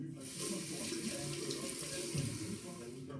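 Tap water runs steadily into a sink while rinsing before a shave, a continuous close splashing stream with no talk.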